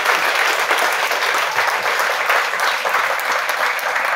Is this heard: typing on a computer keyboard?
no